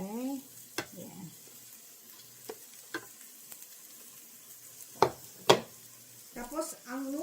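Shrimp fry in three tablespoons of olive oil in a pan, a soft steady sizzle broken by a few sharp clinks and scrapes of a utensil against the pan, while someone talks over it.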